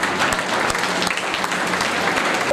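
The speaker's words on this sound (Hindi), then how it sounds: "वे खड़े होकर उसका तालियों के गड़गड़ाहट से सम्मान" An auditorium audience at a community awards ceremony breaks into a thunderous standing ovation, dense continuous clapping filling the hall at close range.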